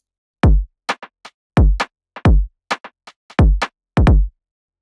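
A UK garage drum beat programmed in FL Studio: deep, booming kicks with decaying tails trade off against sharp, swung claps and snare hits in a bouncy, syncopated groove, loud and alone.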